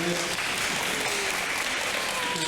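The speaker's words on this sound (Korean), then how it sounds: "축하, 박수" A congregation at a Korean church Sunday service in Berlin applauds in congratulation, a dense, steady wash of clapping filling the room with faint voices underneath.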